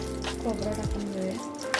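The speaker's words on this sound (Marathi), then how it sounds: "थोडंसं गरम करून घ्यायचंय खोबरं" Grated coconut warms in a pan with a soft, steady sizzle beneath a person speaking.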